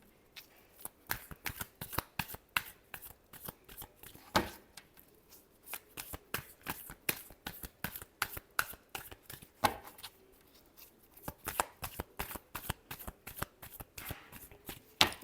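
Tarot cards being shuffled by hand: quick, crisp riffles and slaps of card stock in irregular bursts, close and fairly quiet, with short pauses between and no talking.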